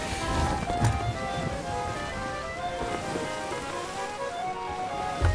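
Ocean waves in the pirate sailing game Sea of Thieves, a dense continuous wash of surf and water rushing steadily, loud and close, with wind mixed in and no talk.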